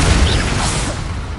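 A Confringo fire spell blasts in Hogwarts Legacy, a loud, dense burst of fiery noise that fills the short moment and tails off slightly toward the end.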